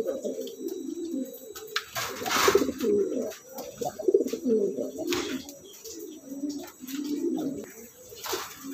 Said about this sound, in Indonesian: namanya Victory ya, warna tritis hitam ya, tritis hitam ya